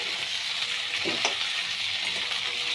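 Ridge gourd pieces and potatoes fry in a pan for a rohu fish curry with pointed gourd, giving a steady, close hiss of sizzling oil and a brief stir near the middle.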